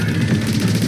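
Rapid gunfire from a Gatling sniper weapon in Splatoon 3, a dense, continuous rattle of shots with no gaps, loud and close.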